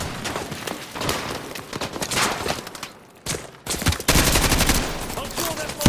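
Heavy gunfire and bursts of automatic weapons fire rattle through a battle in Call of Duty: Modern Warfare 2 Remastered, dense and loud almost throughout, with a brief lull before the shooting surges back even harder.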